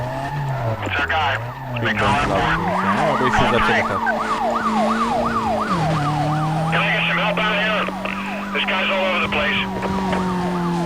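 A wailing police siren in the Need for Speed Most Wanted video game rises and falls repeatedly, loud and close, over a droning car engine and tire screeches.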